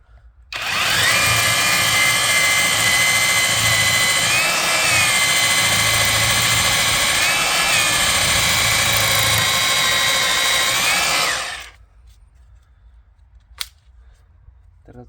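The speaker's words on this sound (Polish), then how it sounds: "Dobra, wiercenie bez udaru" A cordless SDS hammer drill, drilling with hammer action off, runs continuously at high speed for about eleven seconds, a loud steady whine with slight pitch shifts, then stops abruptly, leaving quiet.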